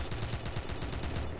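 Gunfire from a weapon in TimeSplitters 2, a rapid string of shots running steadily through the short stretch at moderate loudness, with no talking over it.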